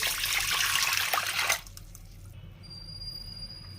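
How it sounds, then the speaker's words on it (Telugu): Water poured into a pan of washed moong dal, a close, steady splashing trickle for about a second and a half before it stops and leaves quiet room tone. "పెసరపప్పు కడిగి బాండీలో వేసుకొని వాటర్ అయితే పోసుకొని"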